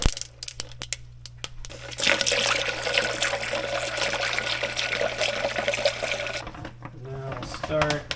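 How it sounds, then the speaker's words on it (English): Cold water poured into a pot of dissolved brine for a grouper dish, a steady splashing fill of about four seconds that stops abruptly, followed by a few small clinks and trickles. "then we're going to add cold water"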